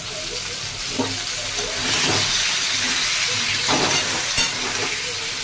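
Potatoes sizzle steadily in hot oil in a pan with black cumin seeds, a continuous close frying hiss with occasional stirring scrapes.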